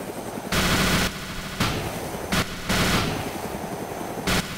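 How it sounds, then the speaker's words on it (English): Minigun fire in a combat video game comes in several long, dense bursts of rapid shots, loud and close, separated by brief pauses with a quieter background rumble. "I'm towards the minigun fire."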